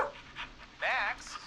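Dog panting in the video game Killer Frequency, a short run of quick breathy huffs up close that rise into one louder burst near the end, mixed with voice-like sounds.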